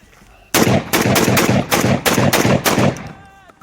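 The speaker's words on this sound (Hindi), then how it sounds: "Ordinary POF वाह cartridge, which is about 25 years old, but cycled brilliantly in the shotgun." A tactical shotgun fires roughly eight rapid, loud shots of 25-year-old POF Wah cartridges, each blast close and sharp in quick succession with brief gaps as the action cycles, then a short ringing tail.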